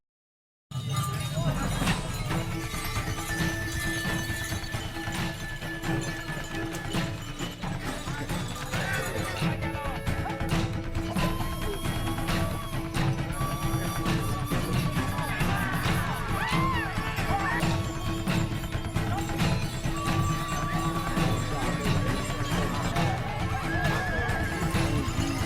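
Horses neigh and whinny amid galloping hooves at Pasola, the Sumba ritual battle between two groups of mounted riders; repeated whinnies rise over a dense, continuous outdoor crowd din with scattered shouts.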